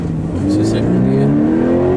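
A car pulls away in second gear, its engine note rising smoothly and loudly, heard from inside the cabin with a voice talking over it.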